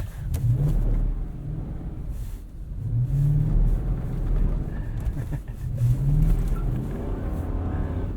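A Lexus GX 460 SUV on Cooper Discoverer AT3 4S all-terrain tires drives through snow, its engine rumbling and swelling in repeated revs under steady road and tire noise, no talking.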